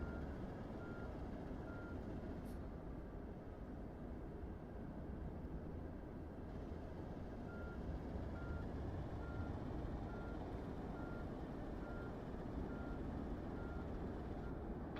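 Pushback tug reversing beeps in MSFS 2024 at Houston's KIAH, a steady repeating electronic beep over a constant loud rumble of aircraft and ground equipment, faint and regular throughout.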